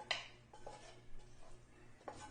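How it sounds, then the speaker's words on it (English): Meat, onions and other vegetables going into a pot of elbow macaroni soup, with a few faint, scattered clinks of a utensil against the pot and soft clatter between them. "my meat is going in along with all the other goodies in here"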